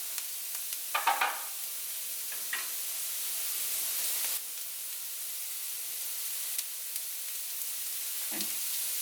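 Leftover chicken frying in a little oil in a pan makes a steady soft sizzle, broken by a few clattering stirs and scrapes, with a brief louder burst near the end.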